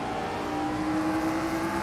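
Race car engine in the Assetto Corsa racing game, a steady sustained drone with a strong held tone, loud and continuous as another car runs alongside on the left, with no talking.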